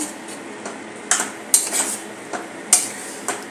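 Grated carrot halwa stirred and sautéed in a pan, heard as irregular metallic clinks and scrapes of a spoon against the pan, close and fairly crisp, with no voices.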